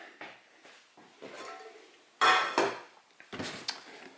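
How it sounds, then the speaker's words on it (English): A 1 litre metal pot for the MSR Reactor stove is handled, giving a few light clanks and scrapes, one sharper knock in the middle, with quiet fumbling sounds between them. "here we have the 1 litre pot for the MSR Reactor"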